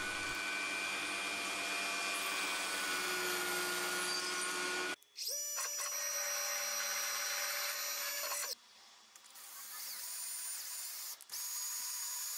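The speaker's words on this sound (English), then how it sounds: "The burr at the bottom is removed with a router." Router trimming the burr from the bottom of a vacuum clamping pad, a steady high-pitched whine that cuts off abruptly, restarts, then drops and resumes, loud and close with no talk.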